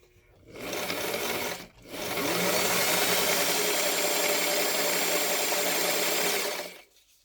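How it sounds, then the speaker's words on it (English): A sewing machine stitching folded fabric with a paper guide for mask ear savers whirs in a short burst, pauses briefly, then runs steadily and loudly for about five seconds before stopping. "And I'm going to sew."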